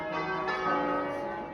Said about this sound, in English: the church bells started to ring above our heads